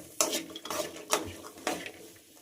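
Corn kernels stirred as they fry in ghee over a medium flame, giving several separate scraping, clattering bursts of a spoon against the pan with a faint sizzle running between them.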